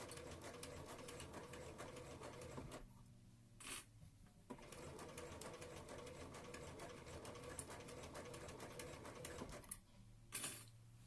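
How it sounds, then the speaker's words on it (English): A sewing machine runs in fast, rhythmic stitching bursts while sewing a Regency dress, pausing briefly twice before starting up again, close and fairly quiet. "Feeling cozy with the sewing machine sounds."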